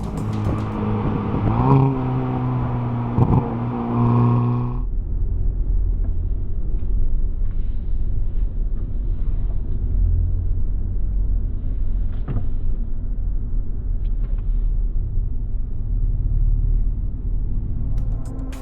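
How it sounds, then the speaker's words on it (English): A Hyundai Veloster N's engine holds a steady, tonal rev during a heel-and-toe downshift with a throttle blip, then drops abruptly to a low, continuous cabin rumble that carries on for the rest of the stretch. "Brake on, clutch in, downshift, blip the throttle, clutch out, off the brake."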